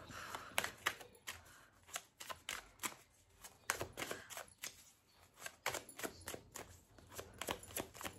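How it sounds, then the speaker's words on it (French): A deck of tarot cards being cut and handled gives quiet, close, irregular flicks and taps in uneven bursts at low level. "Je vais déjà couper les cartes."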